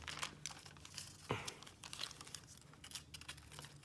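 Hair color foils crinkle and rustle as a stylist handles them during a foiling application, soft close crackles with one sharper crunch, fairly quiet.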